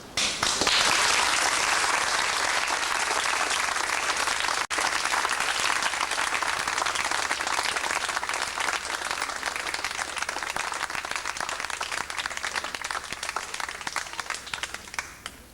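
An audience breaks into applause at an academic palms award ceremony, a loud, dense and sustained clapping that fills the room for many seconds and slowly thins out, with almost no voices.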